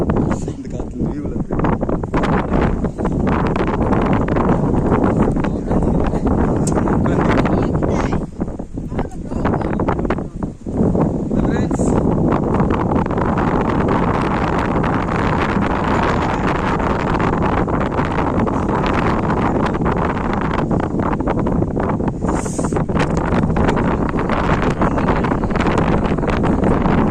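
Strong wind buffets the microphone high on Parvathamalai mountain, a loud continuous roar with gusting surges and brief lulls, while someone talks over it.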